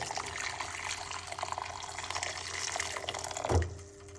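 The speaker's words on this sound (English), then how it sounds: "Pour a little bit of hot water." Hot water pouring steadily into a pot, a continuous splashing stream close by that ends with a clunk.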